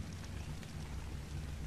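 Steady rain falling in the video game Ark on The Island map, a continuous soft hiss with a low rumbling undertone, constant and even throughout with no speech.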